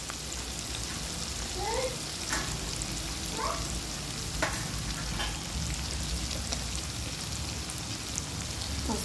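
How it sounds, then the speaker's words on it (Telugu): Bitter gourd curry with turmeric frying in a pan, a steady close sizzle and crackle running throughout, with a few faint stirring scrapes and no talk. "ఇప్పటికి వేగిందండి కూర."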